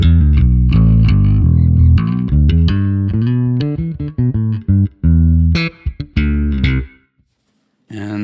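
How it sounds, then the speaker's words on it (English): Bass guitar played through a Neural DSP Nano Cortex bass preset, with loud, close, distorted notes in a rhythmic run that stops briefly near the end before a final note. "Let's also hear what a bass sounds like on some of these bass presets."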